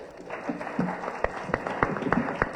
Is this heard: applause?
yes